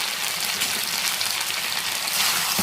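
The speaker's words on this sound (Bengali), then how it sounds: "ভালো করে কষিয়ে নেব।" Kohlrabi frying with garam masala in a pan, a steady close hiss of sizzling oil running without pause, with no talking.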